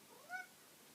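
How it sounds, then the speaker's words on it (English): A house cat lets out a single short, faint meow in a quiet room; the call lasts well under half a second. "Yes, that's my cat."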